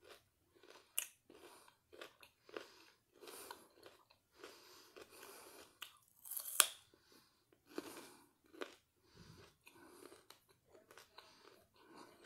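Raw onion is chewed close up, a run of wet, crunchy bites and mastication in irregular bursts, fairly quiet with soft breathing between.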